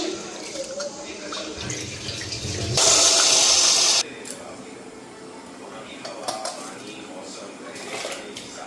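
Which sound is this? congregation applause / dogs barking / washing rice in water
washing rice in water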